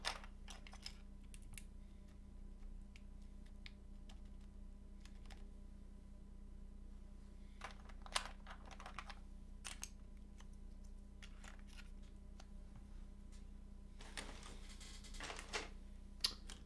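Typing on a custom Zephyr R2 65% mechanical keyboard: quiet, close clacks and taps in irregular bursts and clusters over a low steady hum, with no talking.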